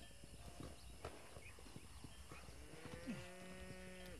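Hooves clip-clop at a steady walking pace in Red Dead Redemption, quiet and fairly close, with a horse giving a short whinny near the end.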